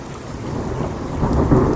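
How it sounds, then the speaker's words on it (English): Thunder rumbles low and swells over rain on a morning in a garden, a deep rolling roar building louder toward the end of the short stretch. "Oh, lightning."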